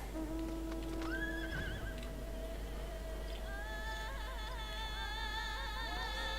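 Horse mount ridden in Final Fantasy XIV Online, with clip-clopping hooves and whinnying over steady game music and ambience, no talking.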